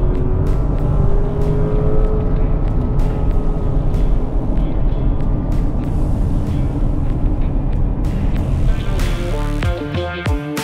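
A 2024 Porsche Cayenne's engine roars continuously while the driver downshifts from fifth to fourth to third, a loud, dense engine and road noise with rising revs near the end, no talk.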